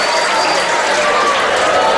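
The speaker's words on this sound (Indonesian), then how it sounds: "Tepuk tangan buat Faisal." An audience breaks into dense, loud, continuous applause at an Islamic religious gathering, with clapping filling the whole moment.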